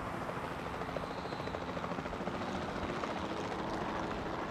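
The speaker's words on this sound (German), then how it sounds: "kann dann hier durch die Gegend fliegen und kann sich das hier aus der Hubschrauberperspektive mal so ein bisschen angucken." A helicopter flying in the video game Jurassic World Evolution 2 makes a steady, dense rotor thrum with a continuous whooshing chop, held at an even, moderate level with no voices.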